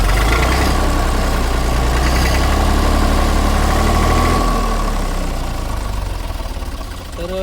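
An engine on a farm rig throttled through a homemade foot pedal hums loudly close by, its pitch rising and holding before easing off toward the end, with someone talking over it.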